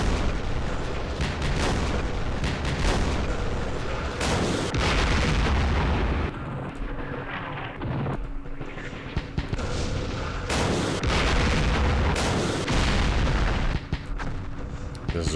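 Mortar fire striking in the wargame Campaign Series West Front, dense overlapping booms and rumbling blasts filling the whole stretch, loud and continuous with no pauses.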